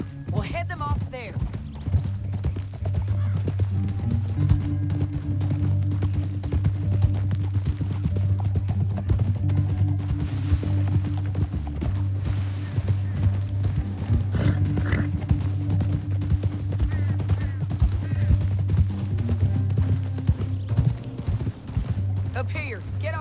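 Horse hooves clip-clop at a steady gallop in Red Dead Redemption 2, a loud continuous drumming with engine-like low rumble beneath and occasional whinnies, while a voice talks over it throughout.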